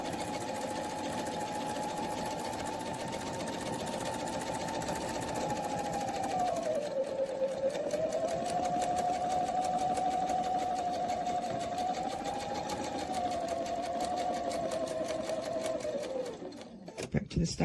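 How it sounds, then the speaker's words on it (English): Sewing machine stitching a full rotation around a rotated template, a steady fast mechanical whir and rapid needle chatter running continuously, dipping briefly in speed midway, then stopping abruptly near the end. "Stitch a full rotation."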